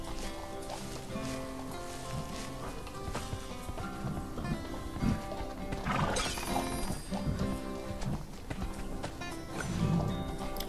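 Horse sounds from the Horse Haven mobile game, with clip-clopping hooves, a neigh and whinny, and light game music layered over a steady background bed, moderately quiet.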